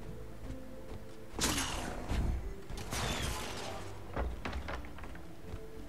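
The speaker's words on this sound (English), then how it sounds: "Unauthorized access detected. Laser turret. Pew." Laser turret in Guild Wars 2 firing, a few sharp zapping bursts with a thud-like impact, over steady background game ambience.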